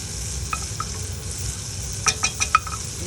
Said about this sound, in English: We'll go with the shallots and the mushrooms. That's going to have to sweat down for maybe a couple minutes or so